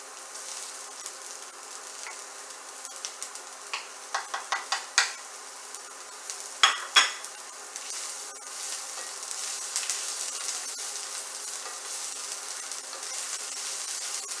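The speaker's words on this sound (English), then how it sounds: "We just want it to saute in there." Ginger sautéing gently in a pan for a fish dish, a soft steady sizzle running throughout with a burst of brief utensil clicks and scrapes partway through, no voices.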